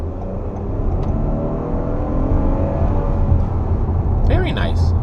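A 2019 Toyota Avalon Limited sedan accelerates while merging onto a highway, its engine note climbing over steady road and tyre roar, with a brief voice near the end.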